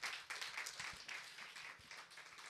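An audience at a church event applauds, a faint, distant patter of many hands clapping together for a couple of seconds, without voices.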